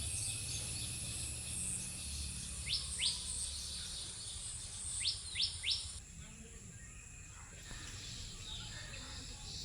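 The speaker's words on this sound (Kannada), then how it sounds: "ಚಿಲಿಪಿಲಿ ಹಕ್ಕಿಗಳ ಕಲರವ" Small birds give short bright chirps now and then over a faint morning hum of insects, fairly quiet and spread through the scene.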